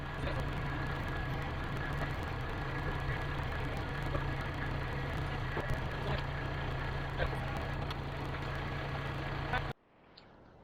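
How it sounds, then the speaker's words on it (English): Kubota tractor engine idling in a steady, moderately loud drone for several seconds before it cuts off abruptly near the end. "So now we'll start it up and get it actually on the tractor."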